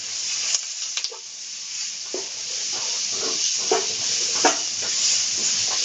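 Capsicum, shredded carrot and cabbage sizzle in a hot wok for Hakka noodles, a steady close hiss broken by occasional clatters and scrapes of stirring.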